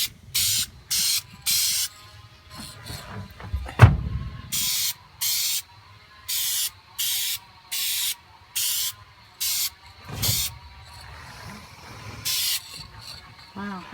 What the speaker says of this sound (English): the nozzle spray is really nice, very smooth.